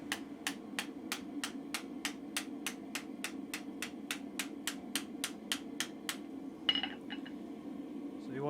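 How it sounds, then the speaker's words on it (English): A chisel being forged on the edge of an anvil, with steady, evenly spaced ringing hammer blows, roughly two or three per second, struck close by and followed by a brief metallic clatter. "So put it over the edge of the anvil with your hammer."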